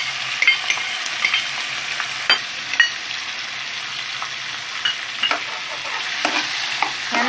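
Mixed vegetables stir-fried in oil with ginger-garlic-chilli paste for white veg pulao: a steady close sizzle broken by frequent scraping and clacking strokes of a spoon stirring the pan, with no talking.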